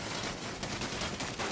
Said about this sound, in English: Why am I seeing gunfire at the back of that convoy?